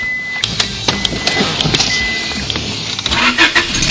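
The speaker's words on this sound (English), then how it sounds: "Starts the car right up." A 1998 Honda Accord engine cranks and catches, then settles into a loud, steady idle with sharp clicking ticks scattered across the sound, close up with no talking.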